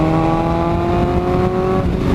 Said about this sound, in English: This exhaust is from hell.